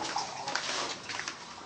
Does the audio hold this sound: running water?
yes